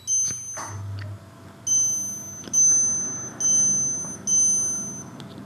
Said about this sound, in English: Now here's the sound of the minute repeater.